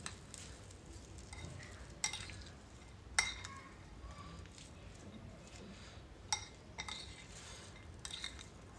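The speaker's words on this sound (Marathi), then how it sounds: "आता आपण हे सर्व व्यवस्थित मिक्स करून घेऊयात" Quiet stirring of a moong dal koshimbir salad mixed with hot tempering in a bowl, soft mixing rustles punctuated by a few sharp spoon clinks against the dish, with no talk.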